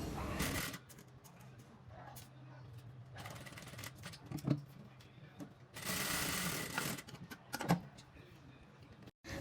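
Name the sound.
sewing machine stitching folded fabric edges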